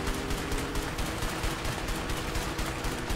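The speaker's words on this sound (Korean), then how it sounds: "총소리 보면 뭐 기관총 나오는 것 같은데." Dense, sustained bursts of rapid automatic machine gun fire from the video game A Way Out, loud and continuous, with no talking over it.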